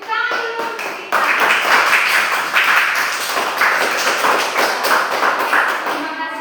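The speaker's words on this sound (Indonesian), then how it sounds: "Oke, tepuk tangan dulu untuk kita." Children clapping in a classroom after a group presentation, a dense, lively patter of many hands close by, with a few voices mixed in over the applause.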